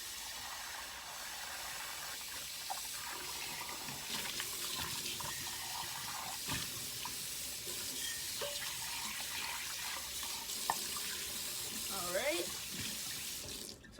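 A kitchen tap runs steadily into a sink, rinsing soap from a washed bowl, with a constant close splashing hiss and occasional small clinks and knocks near the end.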